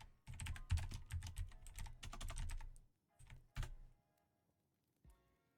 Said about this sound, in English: I'll type out his name because it's weird.